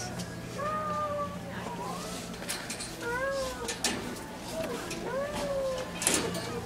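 A cat at a pet store meows repeatedly, with several short, rising and falling cries close by over steady store background noise.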